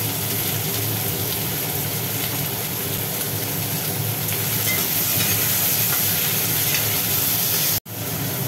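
Onion and tomato frying in a pan, a steady dense sizzle and hiss that runs on continuously at close range, cut off briefly near the end.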